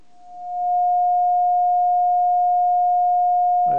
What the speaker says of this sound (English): Plugged in the signal generator right here.